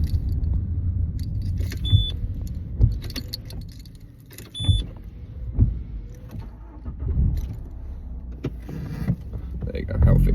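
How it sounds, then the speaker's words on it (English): A car being switched off and back on with keys jangling in the ignition, several short clicks and electric whirs, an engine-like rumble rising and settling, heard close inside the cabin while a person talks. "I'm gonna turn my car off and on."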